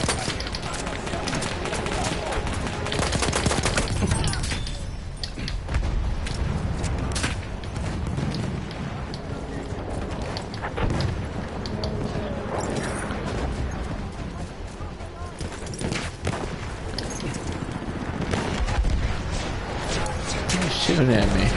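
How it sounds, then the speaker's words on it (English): Gunfire in the video game Battlefield 1, with a constant dense clatter of shots and explosions filling a loud, chaotic battle soundscape throughout. "He's shooting at me."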